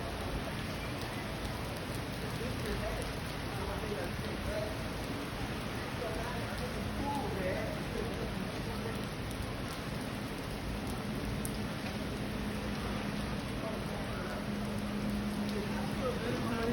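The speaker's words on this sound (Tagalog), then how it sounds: "bumuhos na po ang ulan ng malakas" Heavy rain pours down on a beach at Waikiki, a steady dense hiss of falling water that holds throughout with no gaps.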